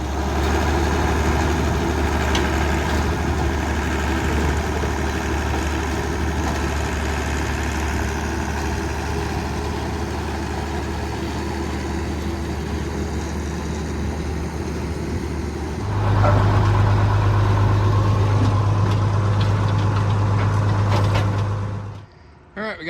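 A farm vehicle engine runs steadily at low speed while being driven slowly off the road into a field during corn silage harvest, a deep continuous rumble that rises and strengthens partway through before cutting off near the end.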